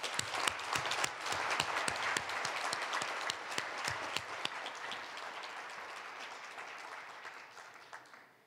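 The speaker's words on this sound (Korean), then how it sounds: "박수로 환영하겠습니다." An audience at the 53rd National Prayer Breakfast in Korea applauding to welcome the president, crisp claps that start strong and gradually soften and fade toward the end.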